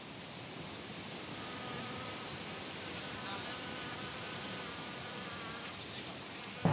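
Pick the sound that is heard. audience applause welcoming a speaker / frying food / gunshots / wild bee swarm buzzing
wild bee swarm buzzing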